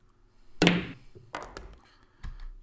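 Pool balls in the Virtual Pool 4 video game during a 9-ball plant shot: a sharp cue strike followed by a few spaced clicks as balls collide, with a quiet gap between each.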